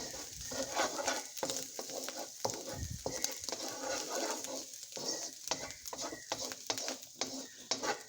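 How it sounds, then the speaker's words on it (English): Garlic sizzles quietly in a pan on medium heat for shrimp fried rice, a soft steady frying hiss broken by repeated scraping stirs and utensil clicks, close and low in level with no voices. "So now we're going to go ahead and drop in our garlic"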